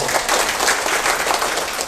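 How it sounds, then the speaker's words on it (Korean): An audience at a Korean health lecture on osteoporosis claps warmly, dense sustained applause filling the room throughout. "조석권 원장님 뜨거운 박수 한번 더"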